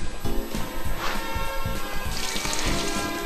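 Watering crops in the farming video game Harvest Moon Magical Melody: a splashing, pouring water effect runs throughout against busy background game music, with no talking.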